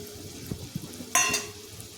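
Red chilli, turmeric, coriander powder and paneer masala fry in oil in a pan for palak paneer. A low sizzle runs throughout, broken by a few soft stirring knocks and then one sharp, bright sizzling burst, with no voices.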